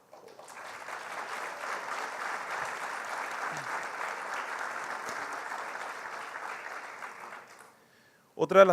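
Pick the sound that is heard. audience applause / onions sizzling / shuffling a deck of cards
audience applause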